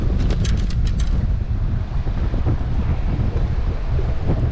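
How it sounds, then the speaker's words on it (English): Strong wind gusts buffet the microphone at a lakeside dock, producing a loud, continuous roar and rumble with no one talking. "The wind, too."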